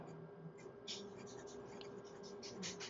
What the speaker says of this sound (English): So I'm going to do the writing sample now